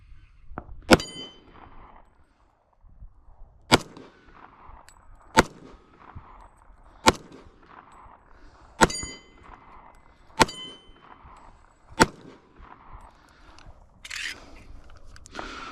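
Seven sharp pistol shots from a Colt 1911 in .45 ACP, evenly spaced about a second and a half apart, each ringing off a steel target with a bright metallic clang. No one speaks.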